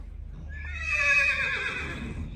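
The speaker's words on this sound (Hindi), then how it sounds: "पहला घोड़ा लोड होने जा रहा" A horse lets out a loud, close whinny while being loaded for a tent pegging outing, the neigh rising and wavering for about a second over a low background rumble of movement.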